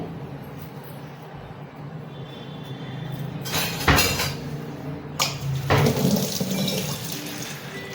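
Running water splashes and scrapes against a heavy stone grinding slab and grinding stone as leftover spice paste is rinsed off, with a few sharp knocks and rinsing sounds close by.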